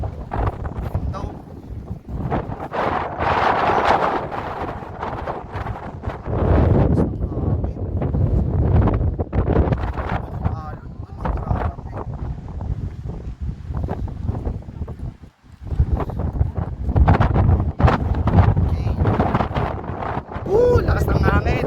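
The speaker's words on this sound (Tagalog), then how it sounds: "Lakas ng hangin." Strong wind buffets the microphone in heavy, rumbling gusts during an outdoor tour in Ilocos, with a brief lull midway and voices talking underneath.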